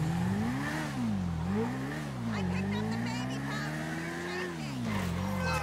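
Motorbike engine in the video game GTA V, a steady droning hum that rises and falls in pitch as the bike rides along, with faint clatter over it throughout.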